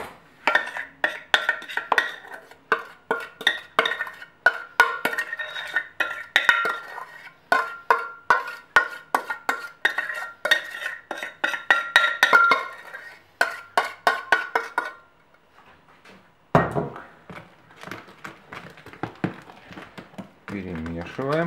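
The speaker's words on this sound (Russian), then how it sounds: "Выливаем сюда и перемешиваем." Spoon scraping and clinking against a bowl while Easter bread dough is mixed with its starter, quick repeated strokes in bursts, with a short pause before the stirring resumes.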